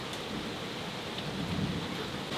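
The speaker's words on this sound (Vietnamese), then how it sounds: "hôm nay dậy trời mưa to quá con ạ" Heavy rain pours steadily in a rural home setting during a sudden storm, a dense, loud wash of falling water with low thunder rumbling underneath throughout.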